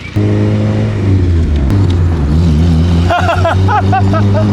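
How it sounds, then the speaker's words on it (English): A car on a brake bed-in test drive after a budget upgrade, its steady engine drone loud and close throughout, rising and shifting in pitch as it accelerates, with brief bursts of talk and exclamations over the engine. "so now we're gonna test out and embed the brakes"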